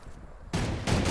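Video game gunfire comes in two loud bursts after a quiet moment, sharp blasts with no voices over them.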